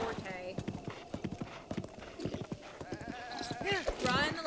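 A horse gallops in the video game Breath of the Wild with quick rhythmic hoof clops and a short whinny near the end, while a person talks over it.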